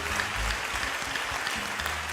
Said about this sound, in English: Then you clap your hands louder.